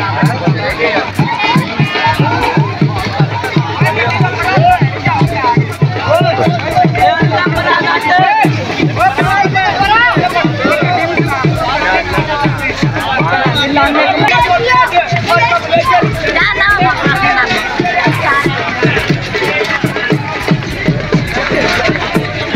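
Dense crowd chatter as a wedding procession arrives in a village in Jandiala Sher Khan, Sheikhupura, a loud continuous babble of many voices close around, with some louder nearby speech in the mix.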